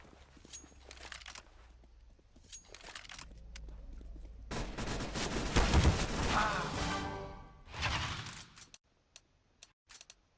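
Gunfire in CS:GO, a burst of shots packed between about 4.5 and 8 seconds, loud and dense with crackling impacts, then a few sparse clicks and ticks toward the end.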